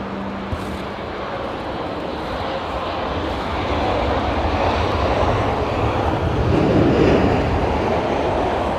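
Aircraft arriving at Heathrow runway 27R in wet, windy weather, a broad continuous engine roar with wind rush that swells louder partway through, steady and fairly close, with no talk.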